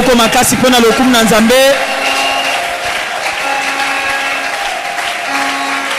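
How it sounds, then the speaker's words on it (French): A church congregation applauding loudly after a voice rings out over it, the clapping settling into steady sustained applause with crowd noise and talk continuing underneath. "tu acclames très fort pour la gloire du Seigneur"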